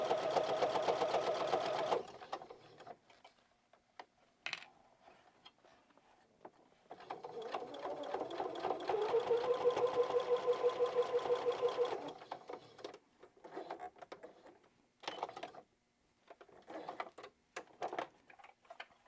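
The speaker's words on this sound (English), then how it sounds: "we're just going to sew these together" A sewing machine stitches a fabric basket seam made from 10-inch squares, with bursts of rapid mechanical whirring separated by pauses and handling noises. It sounds close and moderately quiet.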